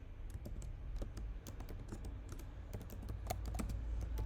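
Steady run of keyboard typing while code is written for a React Native app, a dense patter of small clicks and key taps at close range, quiet throughout with no talking.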